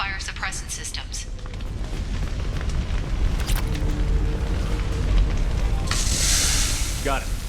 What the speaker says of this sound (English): these damaged pipes are on fire